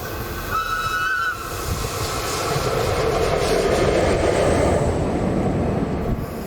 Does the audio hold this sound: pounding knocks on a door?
no